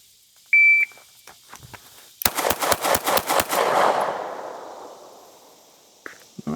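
Supersonic rifle rounds fired at a target on a range crack out as six sharp, loud shots in a quick, even string, leaving a long fading echo, with a brief electronic timer beep before them.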